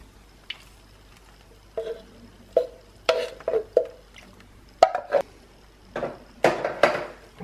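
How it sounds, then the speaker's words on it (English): A spoon stirring Quorn chilli con carne with tinned tomatoes in a pan: a series of soft, wet squelches and clinks, close and irregular, with no one talking. "And give it a stir."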